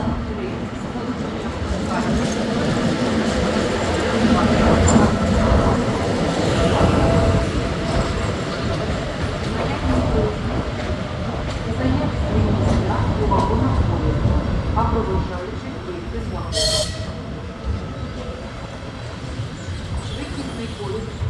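A ChS8 electric locomotive hauls a passenger train from Lviv to Kyiv past a station, giving a steady, loud rolling rumble with faint wheel clatter, while a voice talks over it.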